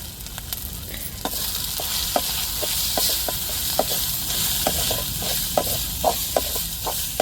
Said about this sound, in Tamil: கொஞ்சமாக மல்லித்தலையை போட்டு வெங்காயத்தோடு வதக்கிக்கிடுவோம்